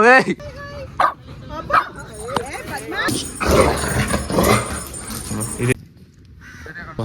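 Several dogs in a park bark and yip in short, excited bursts at close range, with whimpering mixed in and people talking over them throughout.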